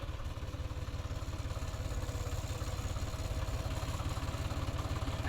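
A tractor engine on a farm during a groundnut harvest chugs in a fast, even low-pitched pulse, running steadily and close with no speech over it.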